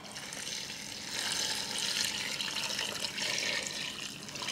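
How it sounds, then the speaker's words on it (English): Water is poured steadily from a two-quart supply into an Instant Pot holding raw peanuts and spices, a continuous close splashing rush that swells and stays loud throughout with no talking. "Pour the water."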